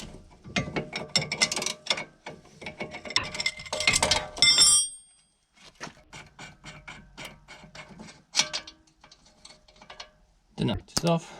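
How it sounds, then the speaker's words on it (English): A ratchet wrench with a 21 mm socket tightens a nut on a BMW F20/F30 front lower control arm, giving close, rapid runs of metallic clicks in bursts, with a short pause midway and a final burst near the end. "Don't forget to switch your ratchet to tightening."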